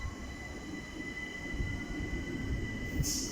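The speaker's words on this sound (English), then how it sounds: "as that one leaves, we've got a Thameslink service coming in" Thameslink train pulling into Greenwich station, a close rumble of wheels on rail with a sustained high squeal from the wheels, steady and fairly loud, a brief sharper screech near the end, no voices.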